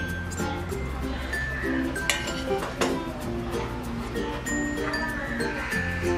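A spoon clinks and scrapes against a metal pot while a mixture for lachha semai is stirred into milk, steady soft clatter with small chiming taps over a low background hum.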